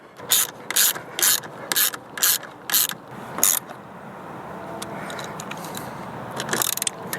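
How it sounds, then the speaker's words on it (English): A ratchet clicks in quick bursts, about eight short tightening strokes, while bolts are tightened on a towing mirror on a Ford F-150, close and crisp, followed by quieter mechanical handling. "Don't over tighten anything till you get everything like torqued down to the same"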